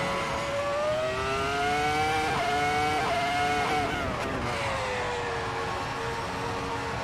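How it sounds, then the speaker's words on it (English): V10 Formula car engine from a racing video game, a sustained high-pitched wail with rising and falling pitch as revs climb and drop through gear changes, loud and continuous with no talk. "let's enjoy the sound once again. The V10 Formula Cars."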